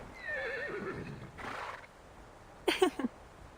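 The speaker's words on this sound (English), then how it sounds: "The horse seems to naturally gravitate to the night, drooping its head to brush up against her." A horse in a video game gives a descending whinny near the start, then snorts and nickers in short bursts later, close and clear over a quiet background.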